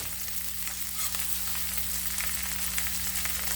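Fish pieces fry in hot oil in a pan after being turned over, a steady close crackling sizzle running alone throughout, with a low constant hum beneath.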